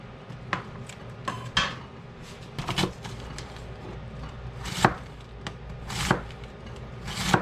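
A kitchen knife chops and thinly slices a vegetable on a board, giving sharp, irregular close-up knocks with short pauses between cuts and a light clatter of utensils.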